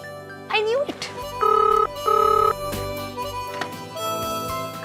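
A telephone rings with two clear electronic bursts of its ringtone, heard over voices and background music in a TV drama scene.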